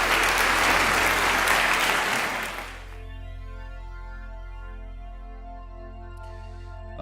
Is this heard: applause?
yes